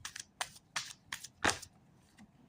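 Tarot cards shuffled by hand in a few short, crisp riffles, the loudest near the middle, close and quiet, then fading to near silence with no talk.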